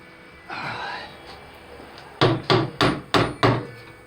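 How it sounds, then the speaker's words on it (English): Rubber mallet striking a steering knuckle on a 2010 Chevy Aveo: after a brief rustle, five sharp, evenly spaced blows land close and loud. "Trusty rubber mallet."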